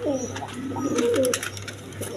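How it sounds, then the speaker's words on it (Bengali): A pair of Bondinet pigeons cooing close by, a short run of warbling throaty coos over a low steady hum, fairly quiet. "এদিকে দর্শকবৃন্দ এখানে এক পেয়ার বন্ডিনেট কবুতর আছে"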